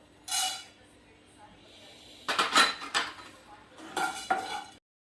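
Wheat grains are dry roasted in a pan for a spiced metkut powder. Three separate bursts of close scraping and rattling stirring are heard, with quiet gaps between them.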